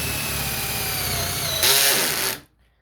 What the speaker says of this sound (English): I'm going to drill into the bench